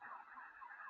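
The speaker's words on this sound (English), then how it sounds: "So you can hear all the car alarms going off" Several car alarms wail together in the distance after drone strikes, a steady, continuous siren-like tone with nothing else over it.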